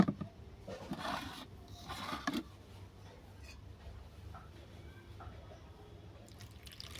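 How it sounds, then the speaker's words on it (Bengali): Raw hog plums being rinsed clean in water after mustard seeds were washed, with soft wet splashes and drips over the first few seconds, then quieter trickling, near and moderately loud. "এটাকেও পরিষ্কার করে ধুয়ে নেব।"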